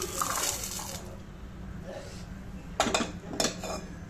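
Roasted peas being taken out of a pan, with a few metallic scrapes and clinks of a utensil against the pan over a quiet kitchen background.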